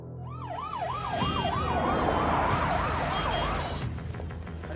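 An ambulance siren wails loudly in a steady rising-and-falling cycle, close by amid a tense emergency scene with traffic noise underneath.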